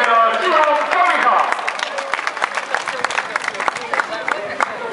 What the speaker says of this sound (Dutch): een warm applaus voor Maarten Zekers, Ben Stellingwerf en de geweldige winnaar, Ivan Kamiga